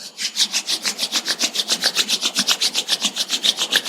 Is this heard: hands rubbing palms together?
yes